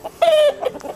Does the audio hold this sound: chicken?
yes